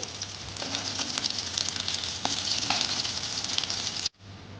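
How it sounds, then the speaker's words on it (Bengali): Eggplant slices fry in hot oil with a steady, close hiss and crackle that runs evenly, then cuts off abruptly near the end as the pan is taken off. "বেগুনটা আমার ভালো করে ভাজা হয়ে গেছে এরপর আমি এটা নামিয়ে নেবো"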